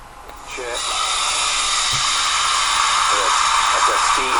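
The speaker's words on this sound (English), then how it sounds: "That's that steam rolling out from underneath that lid" Steam hisses steadily from beneath a cast iron pan lid while squirrel cooks, a loud broad rushing sizzle that holds throughout, with brief faint voice fragments underneath.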